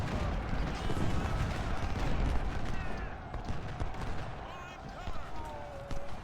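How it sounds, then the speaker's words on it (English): Cannons fire in the Ultimate General: Civil War video game, a dense, rumbling barrage of booms and crackling musket fire blending into a constant roar of battle, loud and sustained throughout. "So all but one cannon is firing away there."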